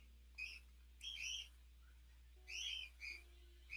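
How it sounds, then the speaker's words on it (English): Loud birds chirping in bursts of bright, high whistled tweets, four clusters spread over a few seconds against a low steady hum, with no talking. "And those are some loud birds."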